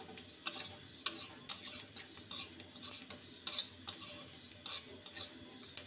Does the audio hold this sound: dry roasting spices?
yes